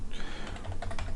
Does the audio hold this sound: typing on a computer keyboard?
yes